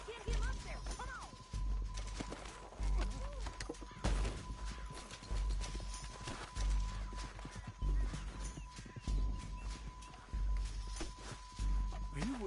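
Horse hooves clip-clop in Red Dead Redemption 2, a steady rhythmic trot under a constant game soundscape with an occasional whinny, moderately close within a dense mix.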